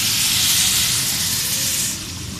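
Water poured into a hot pan with half a kilo of sugar for halwa syrup, giving a loud, steady broadband hiss and sizzle that runs throughout and eases slightly near the end, with no talk.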